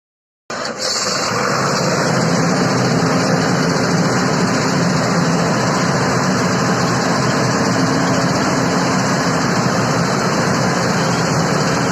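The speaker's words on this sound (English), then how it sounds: "Now the device was attached with the 125 kVA DG set on full load." A 125 kVA, 160 horsepower diesel generator set runs under full load, giving a loud, steady engine roar with a constant low rumble and broadband hum that starts abruptly and holds unchanged throughout.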